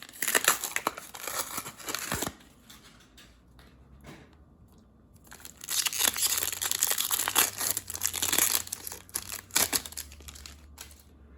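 Foil wrapper of a Magic: The Gathering Ikoria 15-card booster pack crinkled and torn open up close, loud bursts of crackling plastic in two main stretches with a quieter pause between, no talking.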